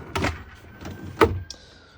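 A soft-close sliding drawer glides in a Chausson 637 caravan kitchen, with two muffled thumps about a second apart and a faint click at the end, close and fairly quiet.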